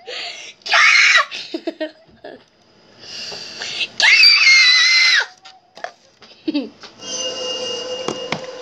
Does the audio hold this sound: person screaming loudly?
yes